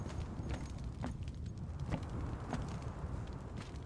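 Horses in the video game Conan Exiles clip-clop in a steady, loose rhythm of hoof knocks over a dense low rumble of game ambience, fairly close and moderately loud, with no voices.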